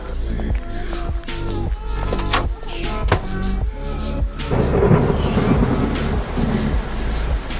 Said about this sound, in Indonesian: kata aku juga apa, masih hujan.